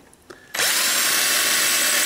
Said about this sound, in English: Now I got the pilot hole drilled.